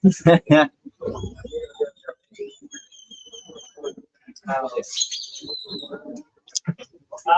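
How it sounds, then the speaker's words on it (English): Birds chirp and tweet in short bursts outdoors, high whistled calls coming and going while a person talks nearby. "Birds sound nice though."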